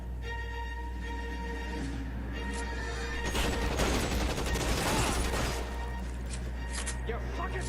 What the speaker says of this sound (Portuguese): Caramba, o cara tá de metralhadora, velho.